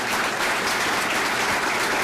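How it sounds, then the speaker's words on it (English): An audience at a John Kasich campaign speech applauds steadily for about two seconds, a dense, even wash of clapping that fills the whole clip with no talk over it. "How about a round of applause for Lee Fisher's wife?"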